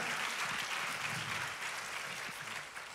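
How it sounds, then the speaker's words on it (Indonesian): A church congregation claps and cheers for Jesus in a steady, dense wash of applause that fills the room, with a few voices rising faintly inside it and no clear speech on top. "Shall we give one more shout and hand clap to Jesus, our King and our Lord?"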